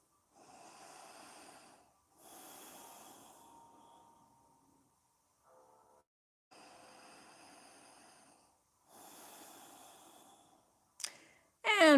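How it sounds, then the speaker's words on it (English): A person doing yoga breathes slowly and audibly through the nose, close up, in four long drawn-out breaths separated by pauses, with a brief sharper sound near the end. "Breathing through your nose."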